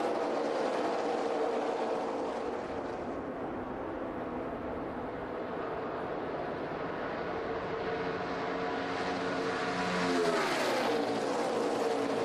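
NASCAR Nationwide Series stock cars race in a pack at Daytona International Speedway, a steady distant roar of engines swelling and fading with a pass near the end, no one talking.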